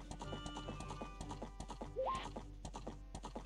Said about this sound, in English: I was trying to kill this damn horse.